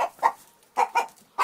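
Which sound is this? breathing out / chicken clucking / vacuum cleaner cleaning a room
chicken clucking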